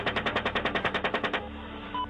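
A rapid burst of about twelve machine gun shots fired from a US military helicopter, evenly spaced and loud, stopping abruptly and followed by a low rumble with no voices.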